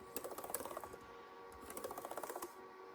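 Rapid clicking of Lenovo IdeaPad S145 laptop keys pressed in two quick bursts, close and crisp, with a short pause between them.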